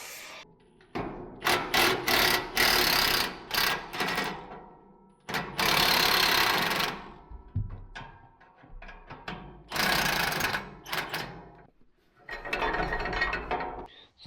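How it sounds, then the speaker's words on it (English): A bandsaw cuts through flex pipe in a tractor repair shop, bursts of loud metallic rattling and grinding that start and stop repeatedly, close up and without talk. "It's the first time I've ever used a bandsaw to cut flex pipe."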